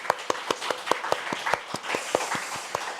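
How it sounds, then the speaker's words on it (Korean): A church congregation claps in thanks at a Sunday worship service: a steady, rhythmic run of sharp claps, evenly spaced and moderately close. "우리 하나님께 감사의 박수 한번 드리겠습니다."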